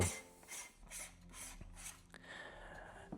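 A screw is turned into a Valoi Easy35 film scanner, making a series of close, rasping, grinding strokes with small ratchet-like clicks as the threads bite.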